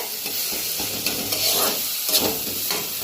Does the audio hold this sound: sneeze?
no